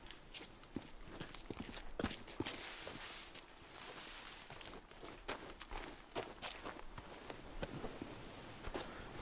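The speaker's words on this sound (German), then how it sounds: "Schritte höre ich." Footsteps crunch steadily through the video game Days Gone, a run of close, uneven steps across roughly nine seconds with a faint outdoor ambience beneath and no voices.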